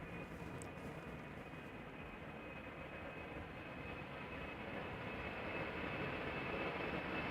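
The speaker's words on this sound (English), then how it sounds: "So this is KLM flight 1075 outbound to Manchester. Embraer 190, 7 years old." An Embraer 190 airliner on departure from Amsterdam Schiphol, runway 36L, gives a steady, loud broadband engine roar that swells slightly toward the end, with no talk over it.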